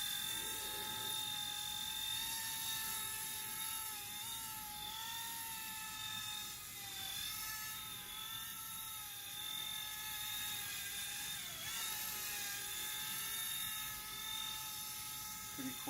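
Vevor toy RC helicopter with a gyro stabilizer hovering close by, its small rotor and motor giving a steady high-pitched whine with slight wavering pitch throughout.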